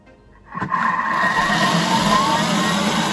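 A kitchen robot starts beating tiramisu cream at speed 6, rising from quiet into a loud, steady whirring motor drone that holds evenly, close and alone without any voices.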